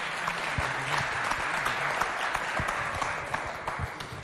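An audience at a Chadian high school quiz contest applauds a female contestant arriving for the national anthem round, with dense, fairly distant clapping that holds steady throughout.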